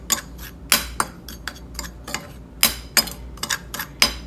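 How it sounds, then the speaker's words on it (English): A utensil mixing seasoning ingredients in a bowl, with sharp, irregular clinks and scrapes spaced apart and fairly close, over a faint low hum. "Make sure our seasoning is nice and mixed."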